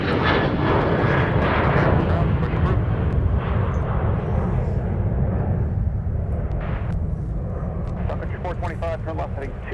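A departing airliner roars loudly at the airport, a broad steady jet rumble that slowly fades, with a voice talking over it.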